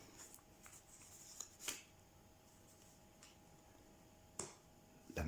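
Tarot cards being shuffled at a reading, heard as soft quiet riffles and papery flicks with a few sharper snaps, close by and without talk.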